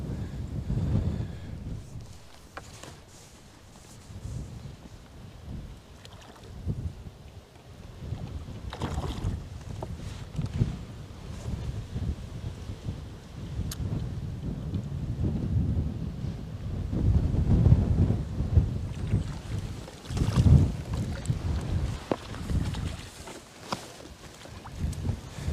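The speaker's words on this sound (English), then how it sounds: "Incredibly blustery." Blustery wind buffets the microphone beside a fishing lake canal pool, a continuous rumbling roar that swells and gusts irregularly, with faint water lapping beneath and no talking.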